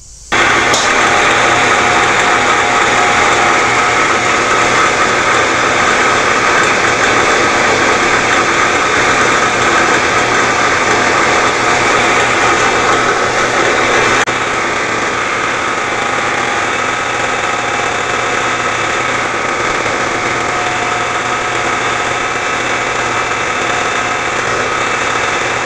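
A milling machine engraves with a D-bit tool, a loud steady mechanical whir and buzzing motor drone with a slight shift partway through, continuous for the whole stretch.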